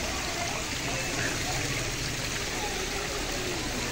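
A man-made waterfall pours into a fish pond on a farm resort, giving a constant dense rush of falling water that stays loud and even throughout with no pauses.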